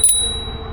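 A single bright bell ding from the handlebar bell of a Navee X electric scooter, a sharp close strike with a high ringing tone that fades quickly.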